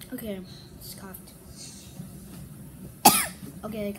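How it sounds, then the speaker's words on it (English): One abrupt, loud cough from a child bursts out near the end, after a stretch of soft, low talking. "Okay, I coughed again."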